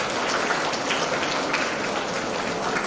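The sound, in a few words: audience applause at a conference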